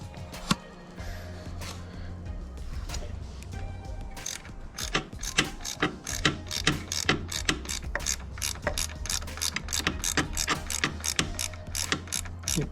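A ratchet clicks in quick, steady bursts while loosening the small 5mm bolts on Yamaha R6 block-off plates, the sharp pawl ticks close and clear over a low mechanical hum, with no talking.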